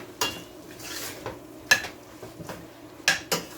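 A spoon scraping and clinking against a pot while curry shrimp in coconut milk is stirred, Jamaican style, a few sharp knocks spread over a few seconds with a soft low simmer underneath.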